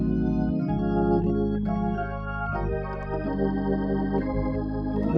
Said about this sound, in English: when you hear that organ sound, that's what church sounds like